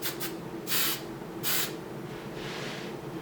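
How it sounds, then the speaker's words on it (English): Hairspray mists onto hair in several short hissing bursts: two quick puffs, then two longer sprays and a softer final one, close and fairly quiet. "And then quick spray behind me, and then I spray through the top"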